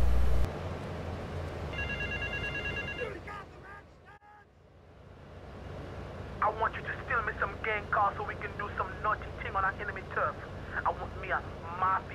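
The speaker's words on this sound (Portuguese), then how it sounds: "vamos fazer mais uma missão aqui do telefone, do King Courtney." A telephone rings in the GTA 3 video game: a short burst of electronic ringing tones early on, then a brief lull and a stretch of game sounds with talking.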